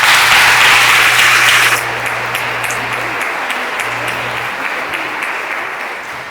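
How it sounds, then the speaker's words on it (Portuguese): A church congregation applauding during an evening service: loud, dense clapping that drops after a couple of seconds and then carries on more softly, with a low hum underneath. "Pode aplaudir o Senhor"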